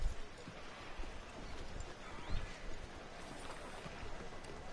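Horse hooves clip-clopping in Red Dead Redemption 2, a faint steady patter of steps under a soft ambient bed, with no talking over it.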